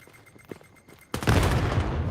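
Gunfire in a shooter video game: after a quiet second of faint in-game sounds, a loud sustained burst of rapid shots erupts and continues densely to the end.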